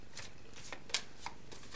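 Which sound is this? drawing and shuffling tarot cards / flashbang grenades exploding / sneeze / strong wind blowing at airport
drawing and shuffling tarot cards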